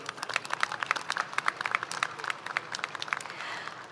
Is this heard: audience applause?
yes